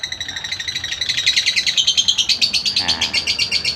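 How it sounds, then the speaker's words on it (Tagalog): A pair of pet African lovebirds sings in a steady stream of rapid, high chirps and whistles, close and fairly loud, with the tweets growing denser and more rhythmic partway through and no talking. "Ayan ang aming dalawang alaga na lovebird. African lovebird."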